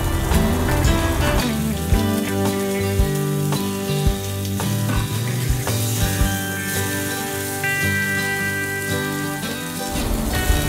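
Pork tenderloin sears in a frying pan, giving a loud, steady sizzle and crackle of hot fat with some stirring or shifting sounds, heard close and without any voices.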